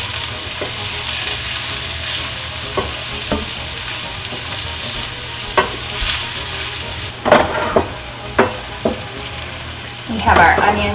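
Onions sauté in hot oil in a pan for Italian Bolognese sauce, with a steady close sizzle and a few scraping knocks of a utensil stirring, growing busier toward the end.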